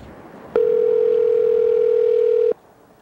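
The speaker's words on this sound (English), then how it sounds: "Ringing? Is it ringing?" A telephone's single steady electronic tone sounds loud and close for about two seconds, then cuts off into quiet room noise.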